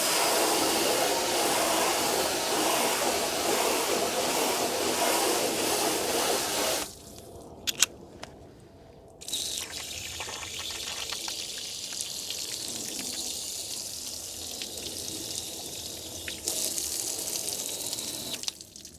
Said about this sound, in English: I'm going to rinse it off right now.